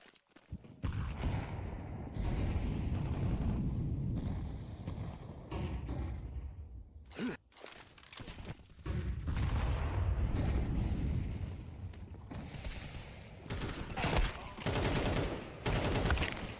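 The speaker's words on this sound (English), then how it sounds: "Nice shots from Prestige here" Rapid video game gunfire from a European Pro League esports match, loud bursts of shots and explosive booms running continuously with a brief lull midway, with a commentator's voice mixed in.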